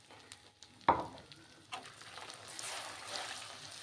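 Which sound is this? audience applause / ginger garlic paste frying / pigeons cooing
ginger garlic paste frying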